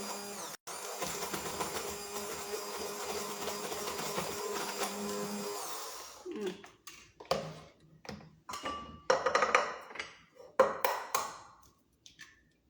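A kitchen blender whirs steadily for about six seconds while mixing eggs for lasagna, then shuts off, followed by scattered clinks and knocks of the jar being handled.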